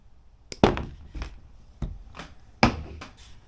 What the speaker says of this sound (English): I'm going to go ahead and cut these leads